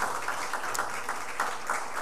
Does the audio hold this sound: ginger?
no